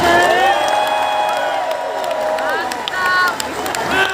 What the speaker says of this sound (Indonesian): saya mengerti kenapa tepuk tangan untuk Menteri Keuangan yang paling keras